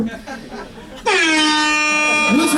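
At a live comedy show, a man imitates an air horn with his voice, letting out a loud, sustained blaring honk held close to the mic after a moment of crowd murmur and talk.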